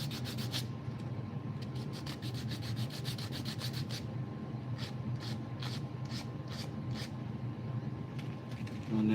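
A sapele wood sheath has its edges shaped with a series of quick rubbing strokes, a rapid run of short scrapes followed by slower, spaced passes over a low background hum.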